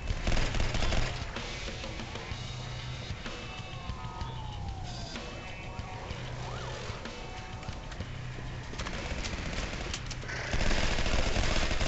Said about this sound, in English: Why are they shooting me? It makes no sense.